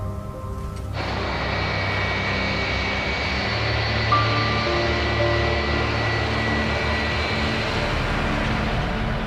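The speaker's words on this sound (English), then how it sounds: "It's still hours before dawn when the plane lifts off." A Flash Airlines Boeing 737-300 jet airliner takes off before dawn, its engines a loud, steady, close roar that swells slightly and holds unbroken throughout with no voices.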